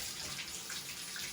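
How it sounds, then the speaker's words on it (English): A bathtub fills from the tap with cold water for a hydrostatic test, a steady close rush of running water with no talk over it. "now we're going to fill the tub up with water."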